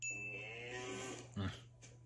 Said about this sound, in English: Being judged by Charlie the cow